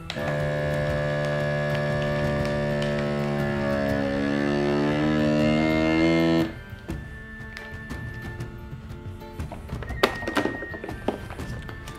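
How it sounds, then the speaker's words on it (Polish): A vacuum sealer hums steadily and loudly as it draws air from a bag holding a sous vide steak, the pitch shifting slightly, then cuts off abruptly, leaving faint clicks and thumps as it seals. "maszyna wybierze powietrze z woreczka i zamknie szczelnie"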